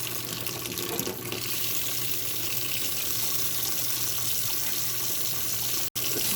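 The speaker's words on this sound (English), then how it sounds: "I let my water get till it's steaming" Hot water pours steadily from a kitchen sink tap, a constant close hiss and splash with no pauses, heated until steaming before cleaning cast iron.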